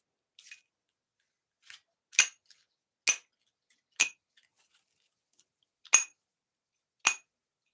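Two 10-ounce silver Buffalo coins clank together in a quiet room, giving a series of about seven bright, ringing metallic clinks spaced roughly a second apart, each with a short shimmering decay.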